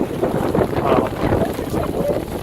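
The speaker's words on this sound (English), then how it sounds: "those are the biggest waves we've seen." Steady broadband rush of wind and water as big waves slap against a sailboat on a cold, windy crossing near Sydney Spit, a continuous loud wash with no clear individual impacts.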